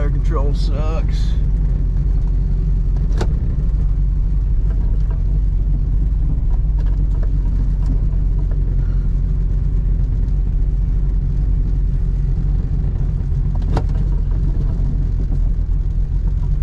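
A car engine idles roughly without idle air control, a steady loud low rumble throughout, with a few sharp clicks and a voice briefly heard near the start.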